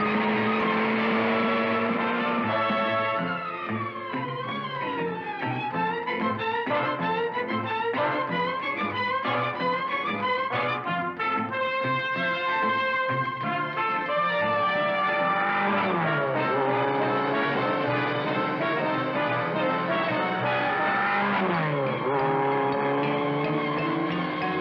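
Mach 5 race car in a cartoon, driving and handling at speed: a steady loud run of engine-like tones that sweep up and down as it corners, carried under continuous dramatic orchestral music.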